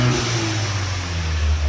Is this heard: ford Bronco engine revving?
yes